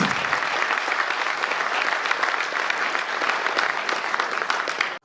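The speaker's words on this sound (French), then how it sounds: "Est-ce qu'on peut les applaudir, s'il vous plaît" Steady applause from a sizable crowd at an awards ceremony in Brussels, dense and sustained clapping filling the whole stretch before cutting off abruptly at the end.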